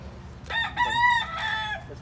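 A rooster on a farm gives one full cock-a-doodle-doo, close and clear, rising and stretching across the crow with no talking over it.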